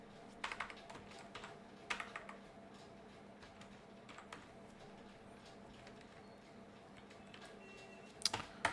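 Typing on a computer keyboard runs at a quiet, close range, with sparse irregular key clicks and a few louder bursts of taps in an otherwise still room.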